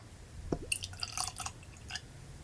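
Jack Daniel's 10 Year Tennessee Whiskey poured into a glass: a soft liquid trickle and a few faint clinks of glass, quiet and close, with no talking.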